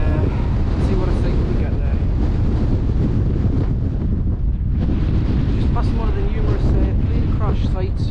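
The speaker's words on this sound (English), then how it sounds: "it's just so windy and cold up here" Loud, constant wind roaring and buffeting the microphone on a cold hilltop near Cheviot, with deep rumbling gusts throughout.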